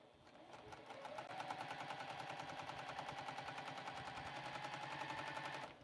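A Juki sewing machine stitching through foam, a steady rapid mechanical chatter of needle strokes that runs evenly for several seconds and then stops.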